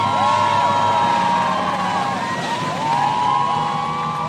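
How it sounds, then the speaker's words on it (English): Crowds of Israelis in the streets of Tel Aviv cheer and whoop for rescued hostages, a loud sustained outdoor roar with high wavering cries and whistles riding over it. "crowds of Israelis were in the streets cheering for them"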